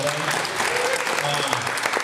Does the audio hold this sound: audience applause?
yes